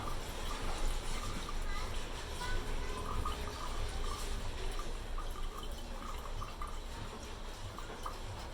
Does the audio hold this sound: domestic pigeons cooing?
no